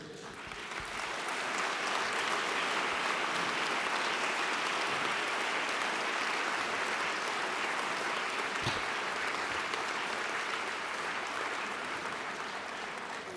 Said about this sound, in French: vous remercier du fond du cœur et vous applaudir encore une fois